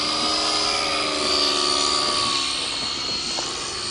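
A helicopter flies close by with a loud, continuous rotor and turbine whine that holds steady throughout, with no talk over it.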